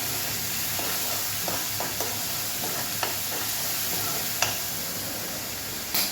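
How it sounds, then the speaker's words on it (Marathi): Onions sauté in oil in a pan for aloo matar masala, a steady close frying hiss with occasional soft clicks and scrapes from stirring. "कांद्याला ना तेल सुटेपर्यंत आपल्याला परतून घ्यायचे छान"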